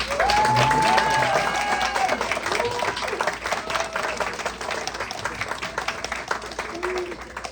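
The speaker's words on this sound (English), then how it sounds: "can we get one more big round of applause for our friends?" Parents in the audience at a first grade winter show give a sustained round of applause, dense steady clapping with scattered voices and a few whoops mixed in.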